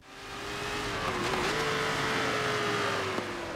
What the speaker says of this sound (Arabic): حتى صوت السيارة وصوت المحركات كلها منقول لك كفيدباك في اليد نفسها